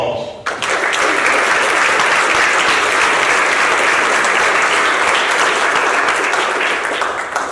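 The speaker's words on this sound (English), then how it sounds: "and applause." Audience applause at a Boy Scouts of America Troop 309 50th anniversary commemoration, a dense, steady wash of many hands clapping that starts abruptly and holds loud and close throughout.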